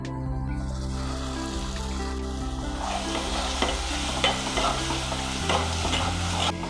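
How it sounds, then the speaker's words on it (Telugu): Ground coconut masala sizzles steadily in hot oil for Andhra chicken curry while a spoon stirs and scrapes the pan, close up, over a low steady hum. "ఇప్పుడు ఈ మసాలాలని బాగా నూనె వదిలే వరకు వేగించుకోవాలి"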